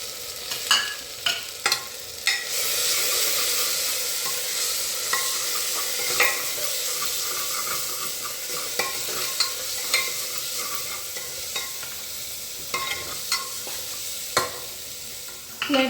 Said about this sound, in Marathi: फ्लेम जरा बारीक करूया, म्हणजे जरा मसाले परतले जातात.